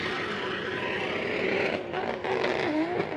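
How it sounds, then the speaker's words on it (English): A 650 wheel horsepower OB30 240SX drift car at a qualifying run of a drifting invitational, its engine giving a loud, continuous high-revving roar throughout with shifting pitch and brief dips in intensity. "That car sounds incredible. This is a 650 wheel horsepower OB30 240 SX."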